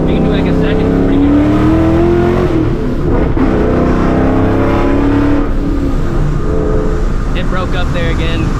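A supercharged 2004 Mustang GT launches hard, its engine roaring loud and close, then stuttering and breaking up instead of pulling cleanly, with the revs rising and faltering throughout.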